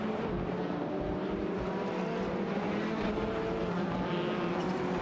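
Racing cars, an Alfa Romeo Giulietta TCR and a Honda Civic, drone along in a video game race: a steady, continuous engine tone runs loud throughout with no voices.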